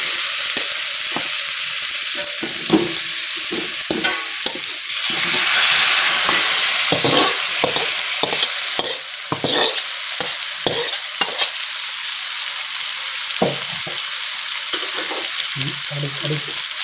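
Chicken in yellow spice paste with shallots and garlic sizzles steadily in a pan, stirred with repeated scraping and clattering strokes of a utensil; loud, close frying hiss throughout, briefly swelling midway.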